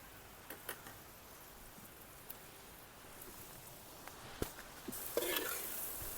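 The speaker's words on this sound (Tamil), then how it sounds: "இப்போ நல்லா மிக்ஸ் பண்ணணும்." A tin fish and brine mixture with boiled potatoes is stirred in a pan for a village-style Indian mackerel dish, giving faint scattered scrapes and ticks, then a brief louder hissing splash near the end.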